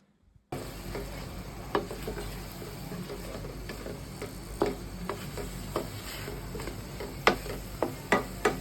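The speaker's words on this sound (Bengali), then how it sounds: "এবার আগে থেকে ভাজা মুগ ডাল দিয়ে আবার কিছুক্ষণ কষিয়ে নিব" Pre-fried moong dal is sautéed in a pan for a rohu fish-head muri ghonto, with a continuous close sizzle. Irregular scraping and clattering stirring strokes recur throughout, with no speech.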